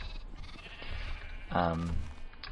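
A sheep in a video game gives a single clear bleat midway through, heard over a steady wash of background game ambience.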